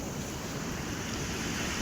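Continuous roaring wash of surf on the shore at Redi as the tide comes in, blended with gusty wind rumble on the microphone, steady and moderately loud without distinct breaks.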